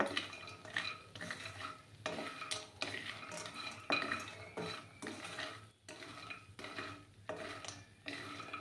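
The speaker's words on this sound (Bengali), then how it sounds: "বড়িগুলো আমি একদম লাল লাল করে ভেজে নেব।" Lentil dumplings fry in a pan, heard as repeated close spatula scrapes and clinks against the pan with a faint sizzle beneath, fairly quiet and uneven in rhythm.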